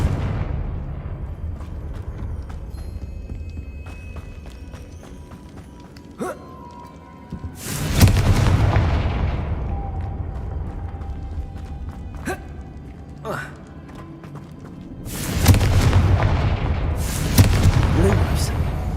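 Confringo fire spells explode in the Hogwarts Legacy video game: two loud, sudden blasts with rumbling decays, spaced several seconds apart over a quieter game soundscape with faint tonal music.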